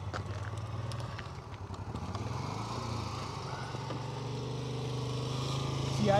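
Motorcycle engine idling and ticking over during slow-speed riding practice, a low steady putter with rhythmic firing pulses that swells slightly near the end, with voices faintly in the background.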